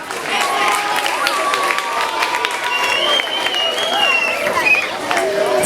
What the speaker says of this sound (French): Monsieur Eric Kabichwa, sous vos applaudissements